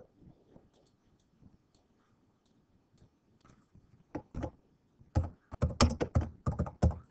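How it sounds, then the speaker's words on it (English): Keystrokes on a computer keyboard during lighting calculation software work, sparse light taps at first, then a burst of rapid, fairly close clicking in the second half. "I'm typing too fast."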